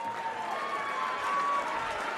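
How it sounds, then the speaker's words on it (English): A dense, steady round of audience applause fills the hall at a women's world darts championship final, sustained clapping from a large crowd with a faint tone running through it. "a massive round of applause for your finalist from the Netherlands, Eileen de Graaf"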